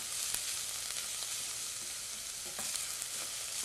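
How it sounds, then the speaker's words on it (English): Onions sauté in a pan, giving a dense, steady sizzle up close with faint occasional stirring ticks and no voices. "let them saute until they're see-through and glassy"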